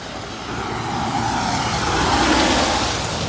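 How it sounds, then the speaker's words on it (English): A car speeds past on a road at high speed, its broadband rush swelling from moderate to loud and peaking near the end before easing slightly, with no talking over it. "this car's driving past at a very quick rate"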